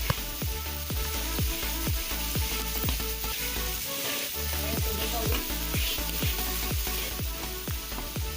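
Shrimp heads and shells dry-roast in a pan with a dense, steady sizzle and crackle, punctuated by regular scraping stirs close by, and no voices.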